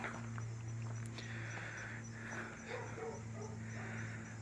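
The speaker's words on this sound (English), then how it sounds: "There's my dog barking." A male dog barks repeatedly at a distance, excited by females in heat, over the steady low rumble of an idling 1979 GMC C15 pickup with a 305 V8 engine.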